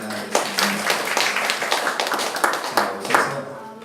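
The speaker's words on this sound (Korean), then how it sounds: "박수로 환영하겠습니다." A small church congregation claps to welcome a member back, loose uneven handclaps from a modest group in a room, fairly close, with some background voices.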